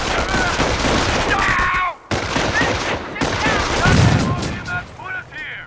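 Gunfire and explosions in the Company of Heroes video game, with a machine gun team and a thrown grenade: dense crackling bursts with a sharp break midway, mixed with game effects and faint voices.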